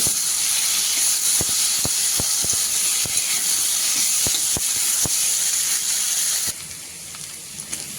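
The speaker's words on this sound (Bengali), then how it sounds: "মশলা কিন্তু খুব ভালোভাবে কষিয়ে নিতে হবে।" Spice paste with green chilies frying in a pan, a steady close hiss of sizzling oil with scattered small pops and clicks that quiets slightly near the end.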